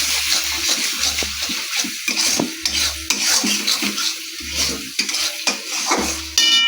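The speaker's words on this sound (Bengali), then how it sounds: "তারপরে একটু ভালো করে নাড়বো।" Salt and turmeric powder being stirred in a pan, a close, busy scraping with a faint sizzle and wet shuffling, broken by a repeated low hum that starts and stops.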